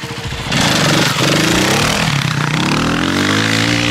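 Motorcycle engine revving hard and holding high revs through a long, sloppy wheelie by a beginner rider, loud and close, with pitch climbing and wavering after a short idle opening.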